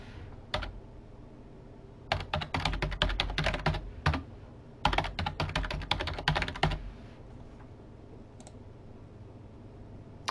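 A password is typed on a computer keyboard in two quick bursts of close, crisp key clicks separated by a pause, followed by a few isolated taps and quiet afterwards.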